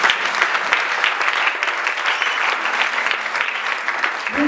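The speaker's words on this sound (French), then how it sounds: "On acclame la parole." A church congregation applauds together in a dense, steady burst of clapping that fills the room from start to finish, with faint voices mixed in.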